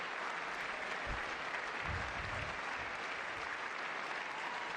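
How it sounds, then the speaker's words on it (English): Hands clapping, faint and steady beneath a background hiss, with a few low thumps partway through. "I'll clap for that."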